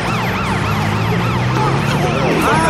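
An ambulance siren wails in repeated rising and falling sweeps over a dense, noisy background, loud and continuous throughout.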